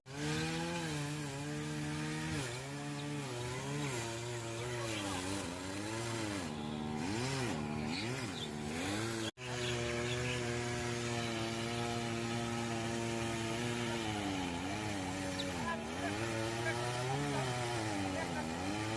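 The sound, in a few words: chainsaw cutting a tree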